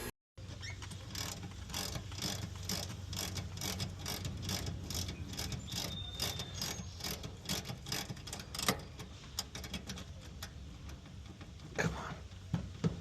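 Service valves being opened on an ACiQ HVAC system, liquid line then suction, with a run of rapid metallic ratcheting clicks up close and a few louder clacks near the end.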